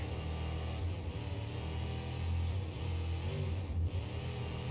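A BeamNG.Drive monster truck engine running on jet fuel drones steadily in the video game, with low, sustained revving that rises and falls slightly. Loud and continuous, with no voices over it.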